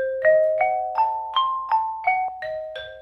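Full diminished seventh arpeggio in C played by a single instrument in a music class, eight clear detached notes climbing then descending in a steady rhythm, close and moderately loud with no talk.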